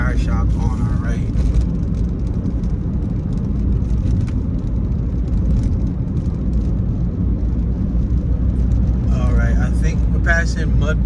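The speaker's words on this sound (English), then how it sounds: "This street right here is high traffic. People flying by me, flying behind me." Road traffic rushes past on a busy city street, a continuous loud whoosh of passing cars heard from inside a moving vehicle, with someone talking over it.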